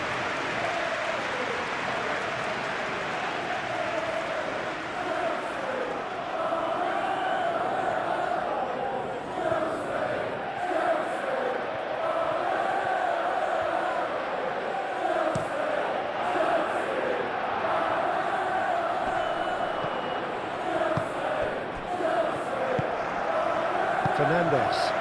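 Steady roar of a football stadium crowd in a Premier League video game simulation of Chelsea vs Everton, a dense continuous murmur with swelling chants throughout, and commentary voices talking over it.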